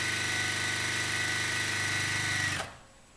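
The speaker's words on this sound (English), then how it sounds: "my machine sews really fast" A fast sewing machine hums steadily as it stitches fabric strip sets with a quarter-inch seam, then stops abruptly near the end, leaving quiet.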